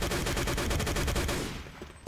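Rapid bursts of machine gun fire in the World War II shooter game Day of Defeat, a loud, steady rattle of shots in quick rhythm that cuts off and fades after about a second and a half.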